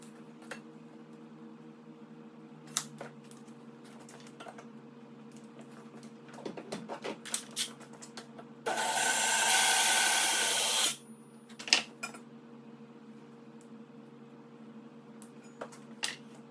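A power tool cuts a snow-covered aluminum bar into 10-inch pieces in a shop: one loud, steady cutting burst of about two seconds stands out against quiet clinks and handling noises, with no talk.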